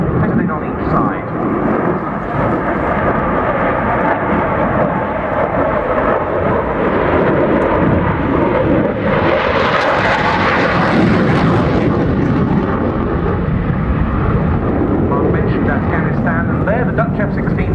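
A Royal Netherlands Air Force F-16 fighter jet flying a display at the RIAT 2014 airshow, its engine a loud, continuous roar that swells and rumbles as it passes.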